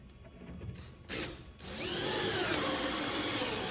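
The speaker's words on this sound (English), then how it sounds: "And then I'm going to drill some holes in the center." A power drill bores holes through a suction vacuum table, a short burst of drilling followed by a steady, sustained whine of the spinning bit, close and fairly loud, with no speech.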